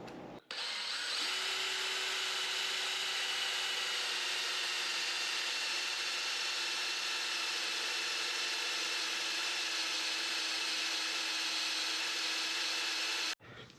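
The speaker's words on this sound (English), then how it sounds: "Cutting fluid, and then we drill." A drill boring into a metal part with cutting fluid for a mini-lathe carriage lock, a steady whining drone running continuously for about twelve seconds before stopping abruptly.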